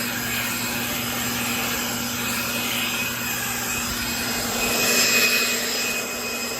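Worx WG521 800CFM electric leaf blower running steadily on its low speed setting, a constant whirring roar with a high whine, loud and close, swelling slightly near the end, with no talking.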